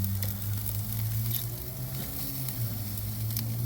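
Lamb chops sizzle over direct heat on a Weber kettle grill, a steady, close crackling hiss over a low hum, with faint pops scattered throughout.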